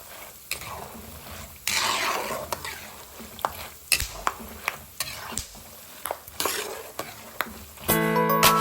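Peanuts frying in a pan for sari-sari store snacks, stirred with a utensil: a steady sizzle runs under repeated scraping and clattering strokes, close and fairly loud, with a brief clunk near the end.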